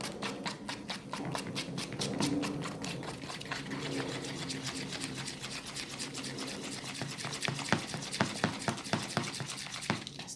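Red dye being stirred into white chocolate coating, with a steady scraping, whirring texture of utensil against bowl and a series of sharp rhythmic taps near the end.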